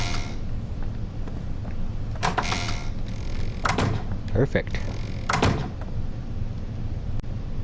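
Doors being placed while building a taming trap on a raft in ARK Survival: a few sliding, thudding door sounds in short bursts over a steady background hum, with someone talking briefly.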